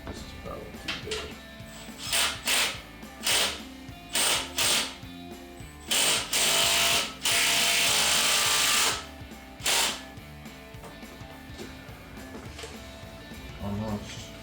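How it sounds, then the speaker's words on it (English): A hand ratchet clicks in short bursts while a radiator is fitted into a 2009-2017 HEMI Charger, with brief pauses between runs and a longer steady stretch of rapid clicking. "We're gonna go to the ratchet so we don't upset the neighbors."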